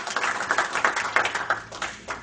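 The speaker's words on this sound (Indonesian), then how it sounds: "Tepuk tangan untuk Tuhan kita." Church congregation claps together in a rhythmic, fairly close burst of applause during a sermon, steady repeated hand claps lasting a couple of seconds.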